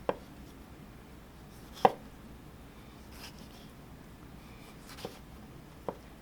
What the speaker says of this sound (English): I'm going to go ahead and cut it into small wedges